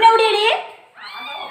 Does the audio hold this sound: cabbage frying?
no